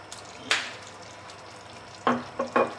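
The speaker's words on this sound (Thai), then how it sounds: "คนให้เข้ากันเลยครับ" Massaman beef curry with onion and peanuts stirred in a pan: a few sharp scraping strokes, one early and a quick cluster of three near the end, over a quiet low sizzle with no talking.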